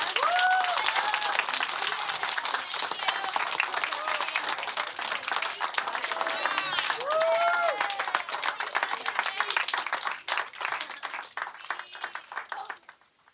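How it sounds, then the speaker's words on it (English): Audience applause for a Time for Kids event with the Expedition 45 space station crew, sustained crowd clapping with cheers and whoops, thinning out and fading near the end. "Let's give them a round of applause"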